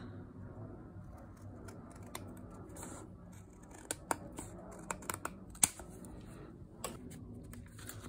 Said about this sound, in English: I'm just going to grab scissors and trim off the excess.